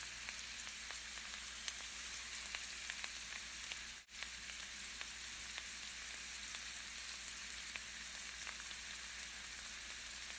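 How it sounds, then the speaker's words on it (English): Rice noodles with seafood sizzle steadily in a pan, a soft continuous frying hiss with one brief break partway through. "Gently stir to evenly coat the noodles."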